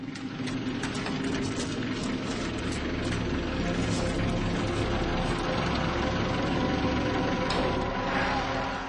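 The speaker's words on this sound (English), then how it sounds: "rush to meet Yvette in the taxi" A taxi's engine idles in a steady, continuous low rumble with broadband road or street noise around it, holding even throughout with no clear voices.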